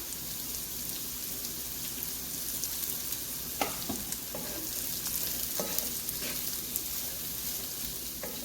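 Chopped beetroot sautéing with salt in hot oil for a pickle gives a loud, steady sizzle, with spatula scrapes and stirring knocks scattered through it and no one speaking.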